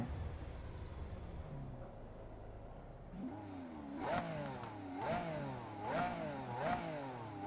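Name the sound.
Italian supercar engine revving in Solar Crown video game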